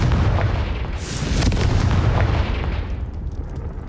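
A loud Confringo spell blast in Hogwarts Legacy bursts out about a second in and then rumbles on as a heavy, sustained boom that slowly fades.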